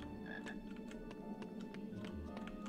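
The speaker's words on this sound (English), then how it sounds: "I hear a frog somewhere. Where's that frog?" A frog croaks in an old Harry Potter video game, a series of short, rapid clicking croaks in an irregular rhythm, moderately close over a soft ambient background.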